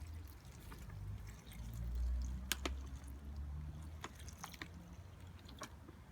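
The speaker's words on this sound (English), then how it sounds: "So we're just going to add some water accordingly." Water is poured gently into a wasp trap up to its fill line, a soft low trickling and splashing that swells briefly and then drips away, quiet throughout.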